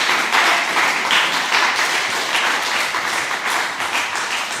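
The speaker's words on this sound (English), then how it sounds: "I'd like you to give all our debaters a round of applause." An audience at a school debating competition applauds the debaters, a continuous wash of clapping that starts loud and tapers slightly toward the end, with no talk over it.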